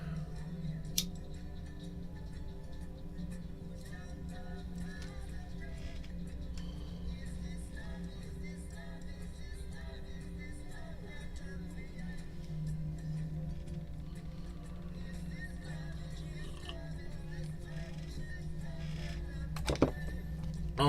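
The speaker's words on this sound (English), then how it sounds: "Here are your 5 official shuffles for you, Sarah." Tarot cards are shuffled in repeated soft riffles and taps over a quiet room, each pass brief and close, with a sharp click near the end.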